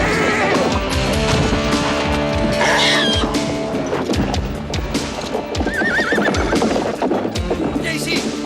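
A horse neighs loudly over busy clip-clopping hooves, with other horse sounds and crashes in a dense, noisy scene.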